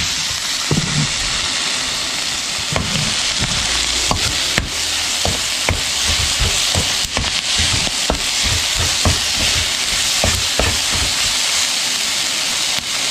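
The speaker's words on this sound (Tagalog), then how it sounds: "Tostahin lang natin mabuti yung longganisa." Longganisa sausage frying in a pan, a steady sizzle under repeated sharp clacks of a utensil stirring and scraping, close by with no talking.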